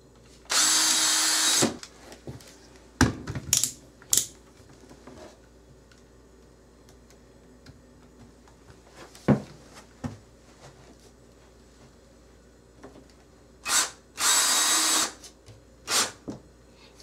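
A power drill drives inch-and-three-quarter deck screws into a thin wooden sole plate during a bathroom remodel, with two sustained loud bursts and a few short whirring pulses, separated by quiet gaps with clicks and handling noise.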